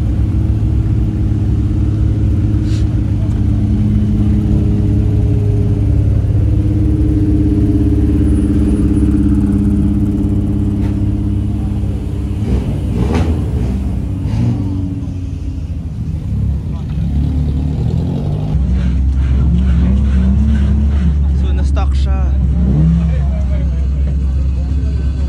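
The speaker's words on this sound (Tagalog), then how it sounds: "ilalabasan na yung mga kotse." Cars leaving an underground car meet in Japan, a loud continuous mix of engines idling and revving, with rising and falling rev tones and a heavy low rumble under voices.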